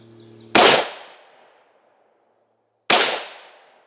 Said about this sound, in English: Next we have some M855 by Lake City, same 16 inch AR versus our AR500.